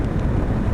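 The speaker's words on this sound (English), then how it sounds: "Getting a lot of wind noise around my head though" Steady, dense wind buffeting around a motorcycle rider's helmet on a 2024 Voge 525 DSX during a road test, a continuous low roar with no talk.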